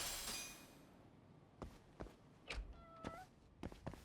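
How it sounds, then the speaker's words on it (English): A cat meows in the video game Judgment, with a few short, fairly close meow calls spread over a few seconds amid light game sounds and soft thumps. "Hey, cat."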